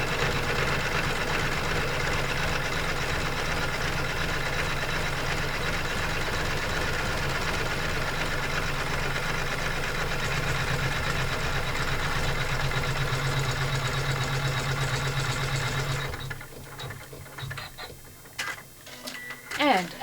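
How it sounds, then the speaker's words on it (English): An embroidery sewing machine stitching an in-the-hoop pouch with credit card slots: a steady, close, whirring rattle of fast stitching for about sixteen seconds. It then stops, leaving a few faint clicks and handling noises. "And our stitching is now finished"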